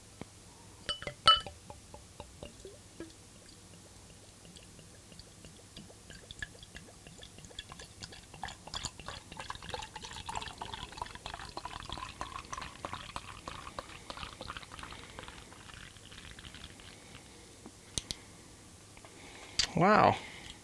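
Mr. Beer home brew poured from a bottle into a glass, a soft trickling, fizzing pour running for several seconds, with a clink of glass at the start and a clatter at the end, close by.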